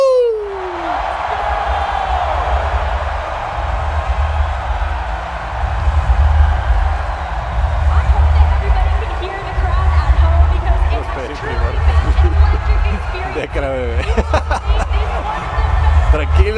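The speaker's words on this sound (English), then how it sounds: "I want to hear you all scream right now!" Stadium crowd at the Pokemon World Championship roars and screams continuously, a dense, loud wash of voices with surges of cheering, while an amplified announcer talks over it.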